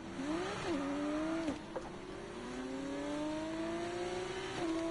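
F1 car pulling away at a race start in F1 24, the engine note rising sharply through quick upshifts, each gear climbing in pitch before dropping, loud and close with no talk.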